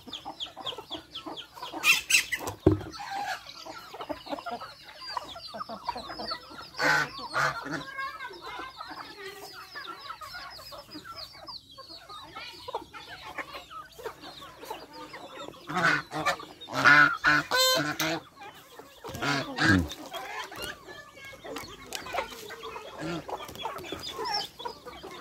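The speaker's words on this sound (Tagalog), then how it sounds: "So yan po yung ating manok." Chickens clucking busily after being fed, a flock of fowl giving overlapping clucks and squawks at close range, rising in bursts with some loud calls, with a voice speaking briefly at times.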